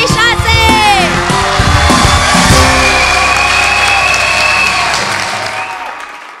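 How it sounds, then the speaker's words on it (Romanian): Loud, sustained applause from an audience, with cheering and a few whoops mixed in, filling the whole stretch before tapering off at the end. "Aplauze pentru cei 6!"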